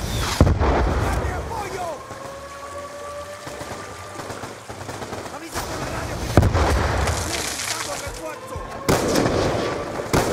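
Heavy gunfire and blasts in the Call of Duty Black Ops video game, with loud repeated bursts and booming impacts rolling through a battle scene under faint voices.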